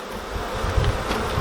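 Honeybees hum steadily at an opened hive in a queenless colony with a laying worker, a continuous close-up drone with small swells and no voices.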